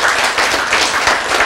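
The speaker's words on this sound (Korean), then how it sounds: "박수!" Audience at a spiritual lecture bursting into dense, loud applause that fills the short moment with no talking over it.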